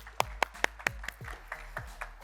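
A few scattered hand claps, sparse and fairly quiet, greet the Dubai Vipers' win over the Sydney Panthers in a GEPL Season 1 match.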